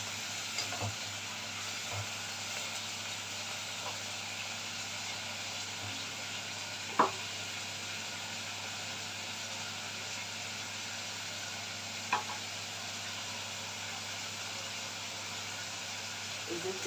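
Vegetables fry in oil in a pan for chicken shawarma, giving a steady, soft sizzle that runs throughout, broken by a few faint clinks of stirring, with a person talking over it.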